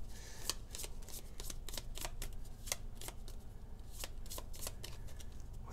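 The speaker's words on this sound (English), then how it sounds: "So we're going to shuffle these up a little bit." A deck of cards for the Tainted Grail board game shuffled close by, quick riffling bursts and soft slaps repeating steadily for several seconds at low volume with no talk.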